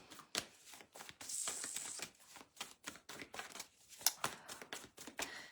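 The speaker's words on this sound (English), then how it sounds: "Give the cards a good shuffle to see what this week has." A deck of tarot cards is shuffled close up, giving quiet, irregular riffling and flicking bursts with short pauses between them.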